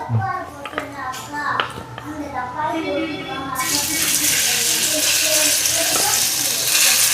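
Masala-coated fish frying in hot oil, a loud steady sizzle that swells to a dense broadband hiss midway, with clinks and a voice heard over the start.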